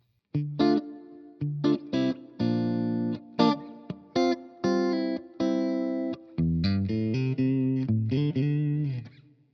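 Electric guitar plays a melodic phrase of sustained notes and chords through a Strymon Iridium, bathed in a smooth, dense plate reverb that blurs each note into the next.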